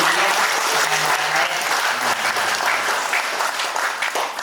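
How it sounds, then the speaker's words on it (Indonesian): Loud, dense applause fills a congress hall and holds steady for the full few seconds, with the crowd clapping together and no speech on top. "Tepuk tangan dong untuk Bu Peggy sedikit"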